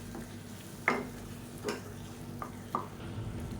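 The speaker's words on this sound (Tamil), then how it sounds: "இந்த பேஸ்ட்டை சேர்த்து நல்லா வதக்கி விட்டுக்கலாம்" Sautéing a ground coconut paste with tomatoes for hotel-style tiffin sambar: a few distinct scrapes and taps of a spoon against the pan over a soft, steady sizzle, sparse and close.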